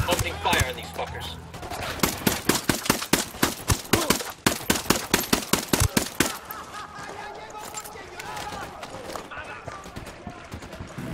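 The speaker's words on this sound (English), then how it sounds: "Opening fire on these fuckers." Rapid bursts of gunfire from Ghost Recon: Wildlands, with a fast, loud string of shots fading into a busy rumble of combat.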